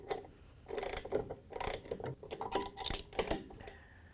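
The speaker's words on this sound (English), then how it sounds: "To tighten the bolt down, we're going to use our 19mm socket again." Ratchet driving a 19mm socket to tighten a tub bolt inside a Samsung washing machine, a series of quiet clicking bursts in uneven strokes, close up with no talking.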